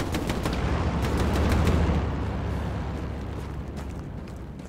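Dense, overlapping gunfire from the World War II shooter game Hell Let Loose: a loud, continuous barrage of rapid shots and booms that swells and then slowly tapers, with no speech.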